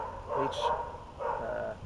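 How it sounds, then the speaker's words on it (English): A dog barks nearby, two short muffled yelps about a second apart, fairly loud against a quiet room. "I hope this dog shuts up soon."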